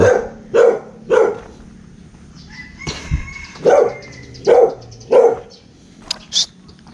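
A dog barks repeatedly nearby, loud evenly spaced woofs in two bursts of three, with a thump and faint background noises between them.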